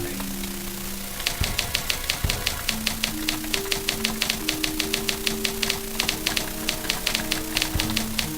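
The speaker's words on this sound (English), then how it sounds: "I really do love the typewriter noise that it makes when I do that." Rapid, even typewriter clacks from a video game play steadily as the key sound, over a layered synth background with sustained tones.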